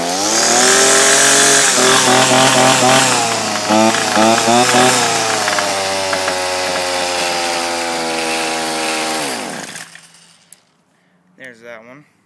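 A Ryobi petrol string trimmer engine revs loudly with a rising and falling buzz, settles into a steadier run, then cuts off, leaving a brief quiet and a short burst of talk.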